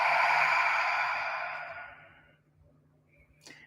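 Slow, deep exhalation during a yoga breathing exercise, a long breathy rush that fades out over a few seconds, followed by quiet with a faint brief sound near the end.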